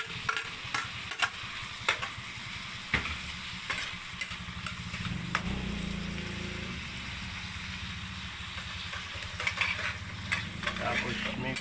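Food frying in a pan while being stirred, a close sizzle with scraping strokes and occasional sharp knocks, over a low rumbling background hum, fairly quiet overall.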